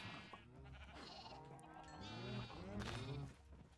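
Sheep in Minecraft bleat repeatedly in a series of wavering, nasal calls that overlap one another and sound close and fairly loud, with no other sounds around them.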